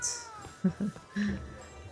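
Cat meows in the cozy tavern game Travellers Rest: a few short, close mewing calls in quick succession over quiet background music.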